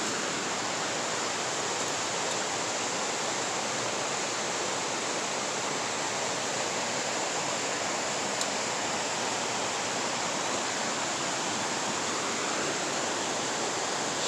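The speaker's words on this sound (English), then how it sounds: "Shadow Creek Falls." Shadow Creek Falls roars steadily in a natural outdoor setting, a dense, unbroken rush of falling water that stays loud and even throughout with no voices.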